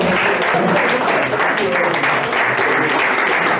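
An audience at the Ohaneze Ndigbo General Assembly in Sandton, South Africa, claps in sustained, dense applause that fills the whole stretch, with voices mixed in.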